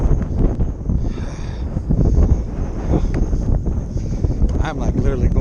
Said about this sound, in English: The wind got me blowing around.